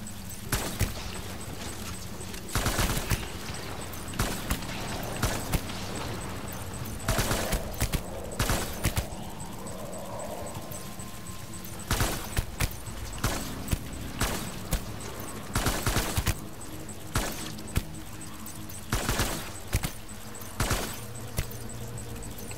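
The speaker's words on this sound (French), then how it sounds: "Je pense que je vais pas avoir le choix d'utiliser encore des balles." Gunfire in the video game Death Stranding: sharp shots scattered irregularly through the clip, some single and some in quick bursts, loud against a steady low background hum with no talking.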